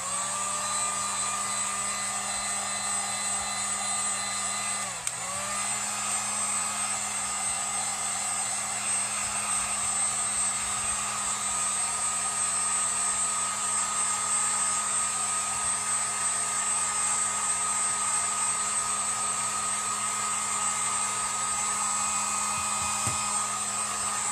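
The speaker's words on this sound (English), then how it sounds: "heat gun before I Mod Podge it onto our surface. I'm just going to use the lower setting." A heat gun runs steadily on its low setting, drying Mod Podge for a home decor craft, a constant close whirring blower hiss with a faint tonal whine that keeps on without a break.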